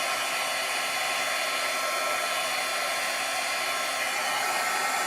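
A heat tool blows a steady, loud, close whoosh of hot air over embossing powder on a card, moving slowly back and forth to melt it.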